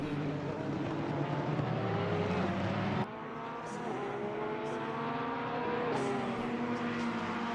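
GT3 race cars roar through Blanchimont at Spa-Francorchamps in Assetto Corsa Competizione, several engines droning loudly together with rising and falling pitch as they run in the draft, under a commentator's voice.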